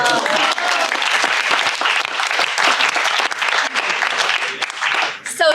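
Audience applause at a French improv theatre show, a loud sustained wash of many hands clapping close by, ending with a brief voice as it fades.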